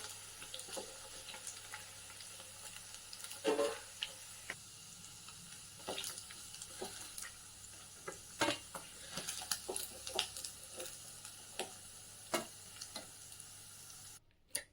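Paneer cubes fry in oil in a pan for palak paneer, a steady soft sizzle with scattered small crackles and pops, fairly quiet and continuous throughout, with no talking.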